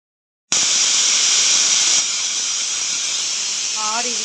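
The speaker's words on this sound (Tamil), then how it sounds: "குக்கர்லாம் 6 விசில் வைக்கணும்." A pressure cooker cooking mutton gray hisses as steam bursts out, a loud steady jet that starts abruptly and carries on with a faint whistling tone near the end.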